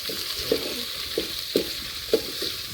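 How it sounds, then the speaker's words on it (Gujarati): A vegetable dish sizzles steadily in a pan as a spoon stirs it, giving soft regular scraping knocks about every half second over the continuous frying hiss, close and alone. "આવી રીતે થોડુંક હલાઈ નાખવાનું છે"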